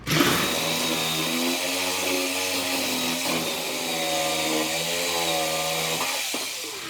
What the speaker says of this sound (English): You can't see, but I'm pushing the back of the jigsaw with my thumb.